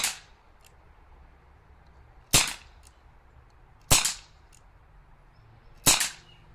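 Three sharp, loud cracks at irregular intervals from a Dan Wesson 2.5-inch airsoft revolver by ASG firing at about 1.5 joules, each shot standing alone with brief quiet between.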